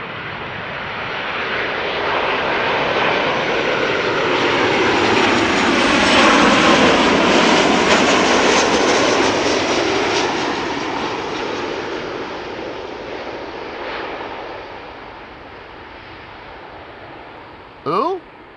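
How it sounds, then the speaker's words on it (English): A KLM Boeing 737-800 jet arriving at Amsterdam Schiphol swells into a broad, loud engine roar that peaks mid-pass and slowly recedes, ending with a brief sharp sound at the close. "This is KLM flight 1030 arriving from Chester, a 737-800."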